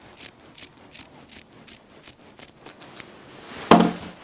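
Scissors snip through fleece fabric while shaping a homemade winter dog coat, giving a steady run of close, crisp cuts about every half second, ending in a louder rustle of the fabric being handled.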